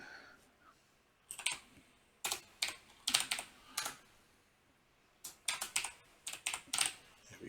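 Fingers type on a computer keyboard nearby in quick bursts of crisp clicking keystrokes, separated by short quiet pauses, with no talking over it.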